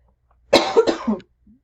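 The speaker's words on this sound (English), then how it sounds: "before my throat gets too itchy and I keep coughing at you" One short, rough cough, close and clear, followed by silence and a faint small throat sound.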